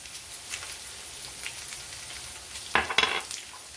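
Potatoes and onions fry in a pan with a steady sizzling crackle, joined near the end by a few louder scraping stirs, no talking.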